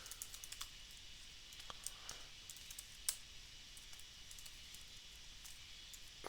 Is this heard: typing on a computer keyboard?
yes